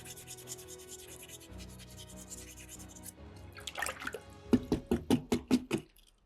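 A soapstone skull carving is wet-sanded with coarse sandpaper, first as a steady close scratchy rubbing, then as a run of about seven quick, evenly spaced wet strokes toward the end.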